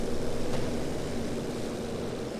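Propeller planes drone steadily overhead in a multiplayer strategy video game match, a continuous even engine hum holding at a constant level throughout with no talk.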